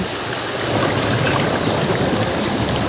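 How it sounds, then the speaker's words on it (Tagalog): Steady rushing water of the Alitao River flows without pause, a dense broadband wash like a river over stones, fairly loud and close. "ito ay ilog ng Alitao"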